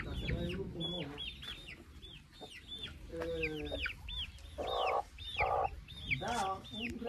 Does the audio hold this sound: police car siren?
no